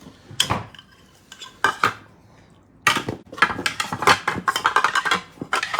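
Two metal spoons and a small bowl clatter and clink as they are picked up and set down, a few sharp knocks, a pause, then a rapid run of close, bright rattles.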